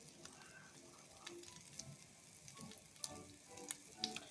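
Carrots fry in a pan for a spicy chicken vegetable chowmein, giving a quiet, steady sizzle with scattered soft ticks and small clinks of stirring.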